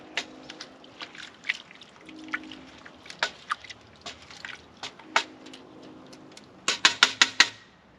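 Pinot Noir grape must for small-batch wine is stirred in a container, giving scattered wet slaps, drips and knocks, with a quick cluster of louder splashes near the end.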